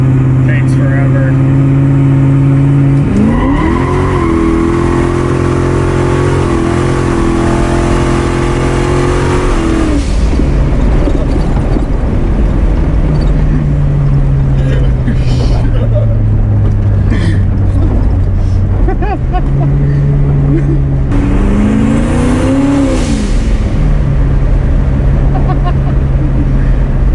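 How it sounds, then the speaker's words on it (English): A loud street-legal drag car engine revs up and holds high, drops back to a rough idle, then revs again, with people talking over it. "It makes all the right noises. It's just street legal drag car."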